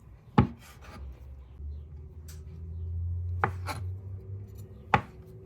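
A knife cuts bread dough into small pieces for homemade hot dog rolls, giving three sharp, close taps on the board spaced a few seconds apart over a low, steady background hum.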